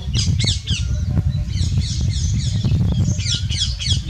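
Repeated loud, harsh squawking calls from a peahen in an open field ring out in quick bursts over a low rumbling background.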